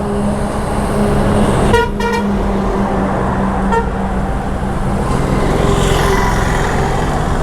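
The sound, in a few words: lorry approaching from behind, honking horn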